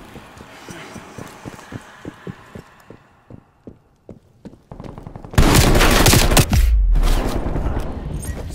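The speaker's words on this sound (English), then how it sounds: "Sentry turret active." A sentry turret in Call of Duty fires in regular bursts of rapid gunshots, with spaced single reports at first, then a dense, loud stretch of sustained automatic fire and explosive noise.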